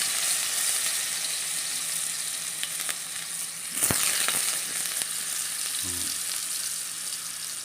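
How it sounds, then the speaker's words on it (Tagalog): Ginger sautéing in hot oil in a pan for chicken adobo, a dense continuous sizzle and crackle close by, with a single sharp clatter midway and a faint thump near the end, no voices. "Una kong igigisa ay ginger."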